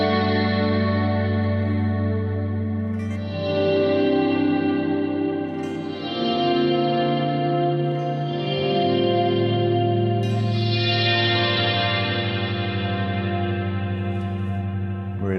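Guitar played through the Nebula effect on an Eventide H9 Max harmonizer multi-effects pedal: sustained chords swell into a shimmering, warbling, modulated wash with long echoing tails, heard alone without talk.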